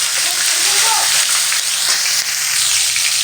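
Nigella seeds and a few green chilies crackle loudly in hot oil for an egg omelette curry, a dense, continuous bright sizzle close up.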